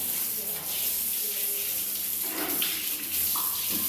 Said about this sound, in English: First, basically what I do, I'll just pour water here and here.